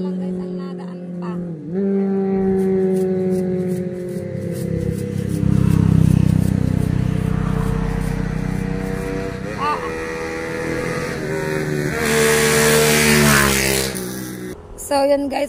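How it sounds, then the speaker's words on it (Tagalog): Motorbikes pass by on a road, engines rising and falling as they approach and fade, with a louder close pass near the end; a person talks over the traffic. "dito ay maraming nadaan na mga motorbike"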